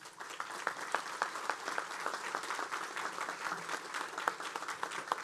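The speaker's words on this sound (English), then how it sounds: "Let's give them a round of applause." A crowd applauds at a police academy graduation ceremony for the 112th academy class: steady, moderately distant clapping with individual claps popping out, continuing without talk.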